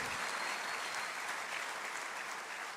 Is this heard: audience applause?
yes